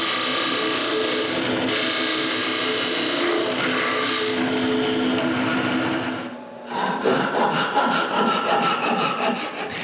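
A hand saw cuts off excess wood from a turned wooden handle in steady, loud rasping strokes, shifting to quicker, choppier strokes near the end, with no talking.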